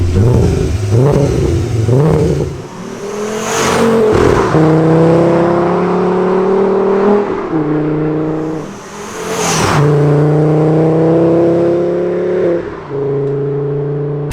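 A five-cylinder engine swapped into a VW Golf GTI Mk2 revs up twice with a warbling, rising note, each run settling into a steady high drone before dropping back.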